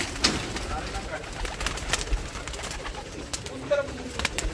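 Large pigeons coo softly in a loft, low murmuring calls rising now and then over a busy, rustling background with faint movement noise.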